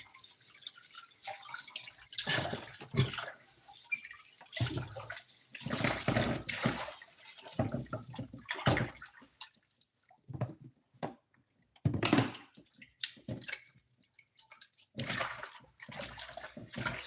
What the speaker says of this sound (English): Let me just wash my fingers.